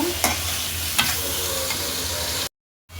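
Tomatoes cooking down in a pan, with a steady close frying hiss and a few scraping stirs of a spoon before a brief cut to silence near the end.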